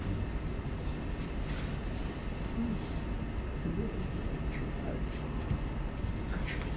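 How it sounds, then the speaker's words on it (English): Inside a New Zealand train station, a low rail rumble and trains are heard, with faint hollow clanks and murmuring voices in the background. "This is the interior of the train station."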